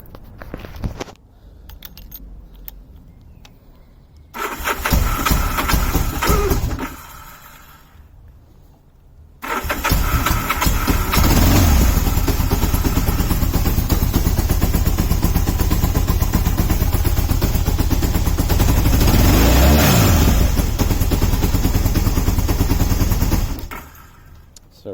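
A 1976 Kawasaki KZ750 twin custom on full choke cranks, fires briefly, then starts and runs loud and steady with revving, a close rough engine roar filling most of the stretch before cutting off.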